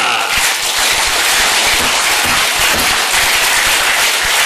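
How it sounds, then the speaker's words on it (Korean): A congregation at a Cheongpyeong worship gathering claps in thanks to God, a dense, loud, continuous wash of applause with no break, crackling steadily throughout. "우리 다 함께 하나님께 큰 감사의 박수를 올립시다"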